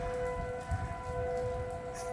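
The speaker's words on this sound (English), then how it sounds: "Tornado siren's been blaring for about 10 minutes." A tornado siren blares steadily as one unbroken tone during a storm, sounding from some distance while rain patters continuously underneath.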